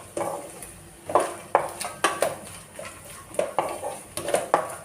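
Coconut being fried in ghee and oil with sugar, stirred in a pan, giving repeated scraping clinks of a spoon against metal in an uneven rhythm, close and moderately loud, with no talking.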